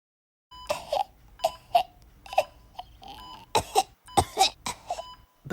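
Repeated coughing from a sick young woman who also has fever, nausea and headache in the drama Tower of Babylon, a string of short harsh bursts and throat sounds at close range, with no talk.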